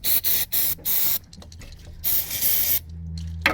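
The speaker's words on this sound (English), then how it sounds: "Alright, now we're going to spray it." Aerosol terminal spray hisses onto a relay in a Porsche Cayenne, with four short bursts, a pause, then a longer burst and a final short one, all close and loud.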